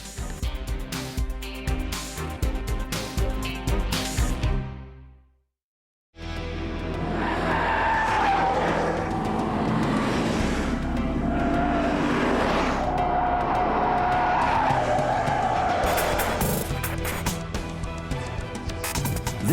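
A Michelin tire skids under hard braking on a test track, slowing from 31 km/h to a stop; steady loud engine and tire noise with a brief silent gap partway through, then sustained squealing and road roar.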